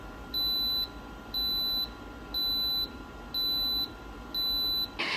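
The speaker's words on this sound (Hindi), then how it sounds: "प्रोसेस खत्म होने के बाद आपको 5 बीप साउंड सुनाई देगी।" A kitchen appliance signals the end of its process with five evenly spaced electronic beeps, each about half a second long with steady gaps, clear and fairly close over a low background hum, with no talking.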